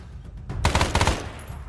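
Burst of gunfire in the Vietnam-era shooter Arma 3 SOG, several rapid overlapping shots clustered in about half a second after a quieter lead-in, loud and fairly close, with no talk.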